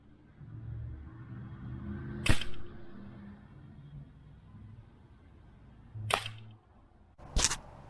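A HUBEN GK-1 air rifle fires at targets outdoors, with three sharp, brief cracks spaced several seconds apart over a low background rumble, the last two closer together.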